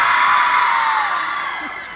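A loud convention crowd at a Comic-Con panel in Argentina whoops and cheers, the shouting close and strong at first and then slowly fading.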